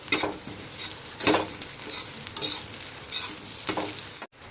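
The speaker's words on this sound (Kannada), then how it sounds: "ಇವಾಗಿಲ್ಲಿ ಮೆಣಸಿನ್ಕಾಯಿ ಮತ್ತು ಉಳ್ಳಾಗಡ್ಡಿ ಫ್ರೈ ಆಗತ್ತವ" Chillies and onions fry in oil in a pan with a steady sizzle, broken by several bursts of scraping as they are stirred, close and moderately loud, with a brief dropout near the end.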